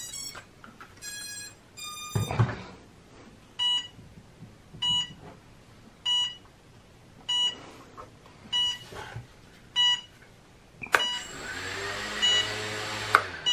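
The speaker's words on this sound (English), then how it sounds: "It's going to beep because it's got a low battery" A Jumper T16 radio transmitter gives a series of short electronic low-battery beeps repeating at a steady rhythm, fairly clear, followed by a louder burst of broadband noise near the end.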